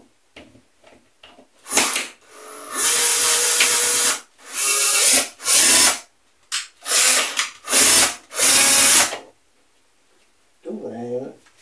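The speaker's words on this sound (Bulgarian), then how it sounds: "Пристягаме тези болтове, както ви показах." Power drill driving bolts of a wall socket into drywall in bursts of a few seconds, several separate whirring runs with pauses between, loud and close, with someone speaking briefly in the gaps.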